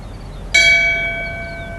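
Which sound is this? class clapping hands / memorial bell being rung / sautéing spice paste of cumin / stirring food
memorial bell being rung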